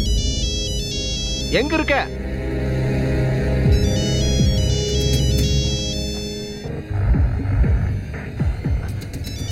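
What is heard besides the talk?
mobile phone ringtone ringing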